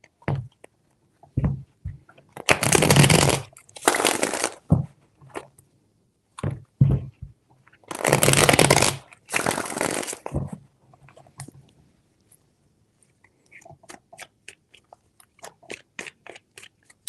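Tarot cards shuffled close up in a few long, papery riffling bursts, with short taps and soft knocks of the deck in between and a quiet stretch of light clicks at the end.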